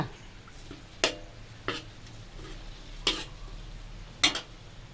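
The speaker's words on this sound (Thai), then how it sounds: "ผัดให้หอม" Chili, garlic and salt are stir-fried in an oiled pan for a pickled bamboo shoot dish, with a soft steady sizzle broken by a few sharp spatula scrapes and clacks against the pan.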